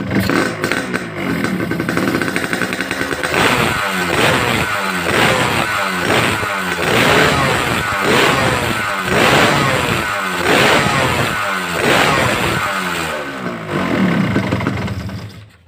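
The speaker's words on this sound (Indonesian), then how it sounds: "sekarang akan saya coba untuk hidupkan motornya" A Yamaha RX two-stroke motorcycle fitted with a YZ ignition starts and runs loudly nearby, its raspy engine revving up and down in rhythmic pulses before settling, with no voices over it.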